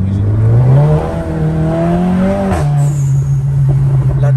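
A SEAT car with a turbo dump valve accelerates hard and loud, its engine tone climbing through a gear before a quick shift, then holding a steady pull with a faint hiss at the end.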